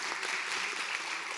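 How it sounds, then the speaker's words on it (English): Audience at a symposium applauding, a dense, steady wash of clapping filling the room throughout the short moment. "Give them a round of applause, please."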